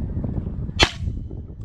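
A single sharp shotgun blast cracks out during a snow goose hunt, loud and abrupt over low background rumble.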